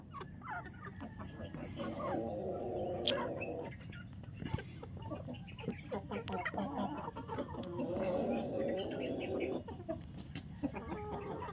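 Hens and roosters on a farm cluck steadily while being fed azolla, with overlapping calls near and far above a constant rustle and a faint background hum.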